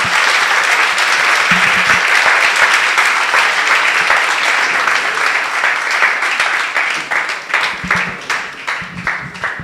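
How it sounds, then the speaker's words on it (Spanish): An audience applauds a speaker at the close of a scientific session talk, a dense, loud wash of many hands clapping steadily for about ten seconds, thinning slightly toward the end. "Un fuerte aplauso para el doctor Eddie González García"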